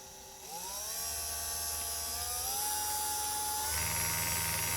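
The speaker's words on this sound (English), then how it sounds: "We'll crank it up and start sanding these wheels down." A small electric motor cranked to about 8 volts spins slot car wheels as they are sanded down, a thin high whine that rises in pitch as it spins up, then holds steady alongside a faint abrasive hiss.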